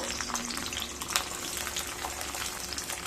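Cashews and raisins frying in a pan on low heat give off a steady, close crackling sizzle, a continuous dense hiss with small pops and no talk.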